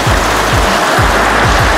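Heavy rain pours down in a loud, unbroken hiss of close drops, with soft repeated low swishes beneath it.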